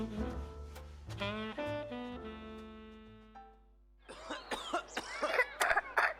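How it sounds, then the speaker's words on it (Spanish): Repeated harsh coughing from a person in a cough syrup advert, several rough bursts in quick succession near the end, following a stretch of sustained tonal music. "Si la tos entra a tu casa"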